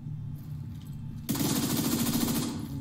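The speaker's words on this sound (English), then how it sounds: "let's try this SMG out" An SMG fires in the video game The Division 2, a sudden loud burst of rapid automatic gunfire that starts after quiet game ambience and keeps rattling rapidly to the end.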